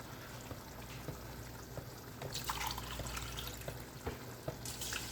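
Water is poured into a pot of one-pot chicken biryani, a fairly quiet continuous trickling splash with faint kitchen clatter and no voices.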